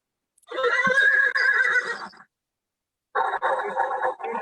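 A horse neighs in an audio play: two loud, close whinnies, the first long and quavering, then a short gap of silence before a second, slightly shorter neigh.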